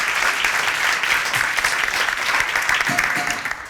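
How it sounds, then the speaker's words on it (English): Audience applauding panelists at the close of a university panel discussion on environmental change and financial investment, a steady dense clapping that holds at full strength for the whole stretch, with no voices over it. "So a round of applause for our panelists."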